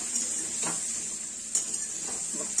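Dudhi muthiya, bottle gourd dumplings, shallow-frying in oil in a pan, giving a steady bright sizzle with a few soft stirring scrapes and clinks of a spatula against the pan.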